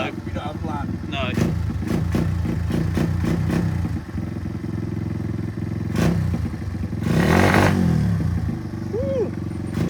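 A motorcycle engine runs close by with a steady, throbbing drone, a few clattering knocks, and a louder rev swell near the end.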